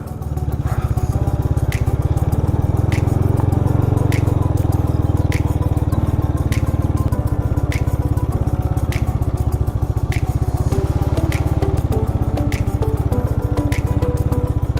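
A motorcycle engine runs steadily at close range during a zero-circle stunt practice, a loud continuous buzzing drone with regular rhythmic ticks throughout.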